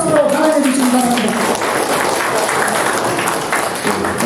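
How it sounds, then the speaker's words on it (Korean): Warm applause from an audience welcoming a lecturer to a talk on civilian victims in South Jeolla around the Korean War; a voice speaks briefly at the start, then dense, steady clapping fills the room. "여러분 뜨거운 박수로 환영해 주시기 바랍니다."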